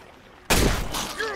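Gunfire while shooting zombies in the video game State of Decay, a sudden loud burst of rapid shots that keeps rumbling for about a second after a quiet start.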